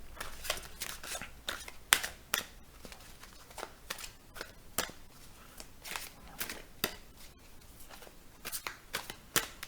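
Tarot cards being shuffled in repeated quick riffling bursts, close and fairly quiet, with short pauses between runs and no talking.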